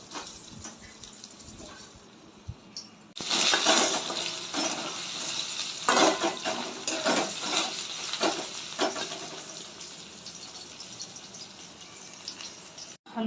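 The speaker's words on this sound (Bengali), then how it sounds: "তেল হয়ে গেছে, ভেজে নেবো আমি।" Potatoes and soybean chunks go into hot oil. After a quiet start, a loud burst of frying hiss sets in and continues with crackles and stirring scrapes, easing slightly toward the end.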